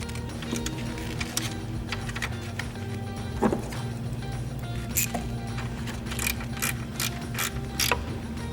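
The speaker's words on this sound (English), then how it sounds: "We're going to use the 10mm socket to remove this nut and connect the ground wire here." A 10mm socket ratchet works a nut loose on a Jeep Wrangler during an auxiliary switch install, giving rapid clicking and ticking with a few sharper clacks, close and alone over a low hum.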